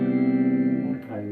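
Clean electric guitar through a Blackstar amp rings out as a sustained, gently wavering chord that decays after about a second, followed by a softer note.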